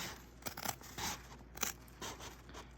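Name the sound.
scissors cutting fabric down the middle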